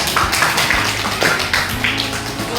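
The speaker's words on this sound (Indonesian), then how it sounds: "tepuk tangan buat semuanya" A group of people clapping together in a classroom, a short burst of close, fairly loud, uneven applause lasting a couple of seconds.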